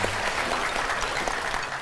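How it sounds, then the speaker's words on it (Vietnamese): A crowd claps steadily, a dense patter of hands at even loudness throughout. "Xin cho bạn nam một tràng pháo tay ạ"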